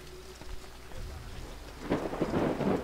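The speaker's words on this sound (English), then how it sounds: "It's just the thunder." Rolling thunder in the video game GoldenEye 007 Reloaded, a steady low rumble with rain that builds louder and crackles more in the last second, with no talking.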